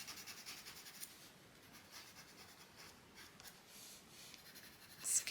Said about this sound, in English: You can really use here broad strokes to sketch that in.